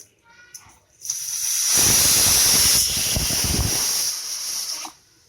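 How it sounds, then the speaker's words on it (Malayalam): A pressure cooker cooking sambar lets out a loud, sustained whistle with a bright shrill tone over rushing steam hiss for about four seconds, then cuts off sharply. "ഇവിടെ കുക്കർ ഒരു വിസിൽ വന്നിട്ടുണ്ട് അടുത്ത അടുത്ത രണ്ടാമത്തെ വിസിൽ വരും"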